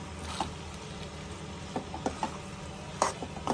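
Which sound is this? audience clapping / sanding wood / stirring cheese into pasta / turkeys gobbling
stirring cheese into pasta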